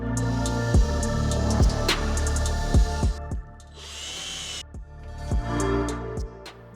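A power drill drives screws one at a time into a wooden board frame, its motor whirring steadily with repeated dips and rises in pitch and brief pauses between bursts.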